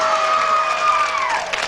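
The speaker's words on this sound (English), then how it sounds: "You know there were some men out there leading the applause" A 1981 Card Sharks television game show studio audience cheers and claps in a brief, steady burst of applause, with a sustained musical tone ringing through it.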